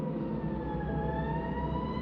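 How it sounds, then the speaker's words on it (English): A police car siren wails steadily under a heavy low engine rumble, loud and continuous throughout, its rising tone suggesting an approaching vehicle. "I heard the sound of a police car approaching."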